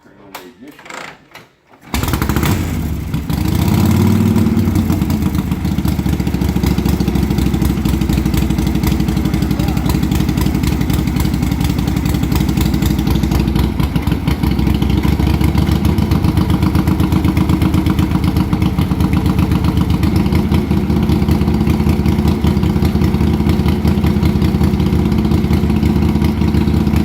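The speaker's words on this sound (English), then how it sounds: "I'm going to let you hear the engine itself" A vintage motorcycle at the Wheels Through Time Museum in Maggie Valley, North Carolina, fires up after a brief rattle of kicking. It then settles into a loud, steady, close idle that runs unbroken for the rest of the clip.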